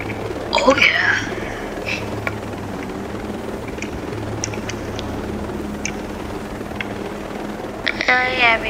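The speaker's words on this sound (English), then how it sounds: "look at me just casually flying this helicopter." A steady helicopter drone hums throughout at moderate volume, with short bursts of voices and chirpy effects near the start and end.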